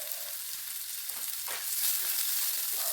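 Garlic and onion fry in a pan for a curry, a continuous close hiss of oil with light stirring movements in the mix and no talking.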